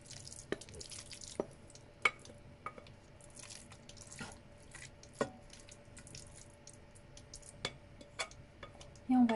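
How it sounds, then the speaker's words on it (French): Marinated kebab meat cooks in a frying pan, giving a steady low sizzle with scattered sharp pops and ticks of spitting fat over about nine seconds. A louder clatter comes at the very end, and no one speaks. "On va la cuire maintenant dans une poêle."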